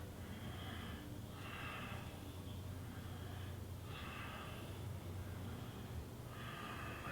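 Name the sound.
qigong breathing in and out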